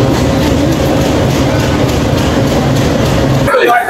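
The Rampurhat Express rumbles loudly and continuously at platform 7 of Sealdah station, with a deep, heavy rolling roar that cuts off abruptly near the end while people talk.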